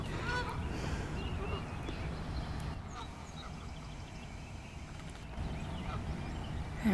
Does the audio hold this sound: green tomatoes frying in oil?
no